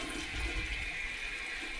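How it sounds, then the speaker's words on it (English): An old toilet flushes after its clog-prone jet has been cleared, a steady close rush of swirling, draining water with no voices. "any subsequent flush is going to be very powerful with that jet shooting down the trap"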